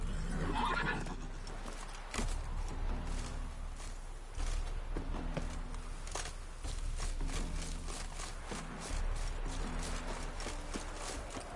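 A horse in The Witcher 3 whinnies and gallops, with a neigh at the start followed by rhythmic hoofbeats in bursts, loud and close over game ambience, without speech.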